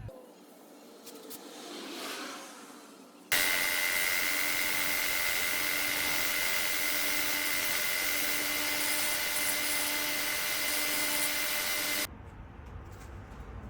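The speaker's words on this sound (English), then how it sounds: "take it to the edge sander," An edge sander sanding an epoxy inlay cutout piece for a Ninja logo, a loud steady belt whine starting abruptly after a quieter handling stretch and cutting off near the end, with no talking.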